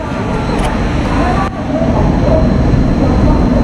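A Hyderabad Duronto Express train, having just left Ballah Shah Junction, rumbles along loudly and steadily from on board, with a dense roar of wheels and carriage noise and a brief dip partway through.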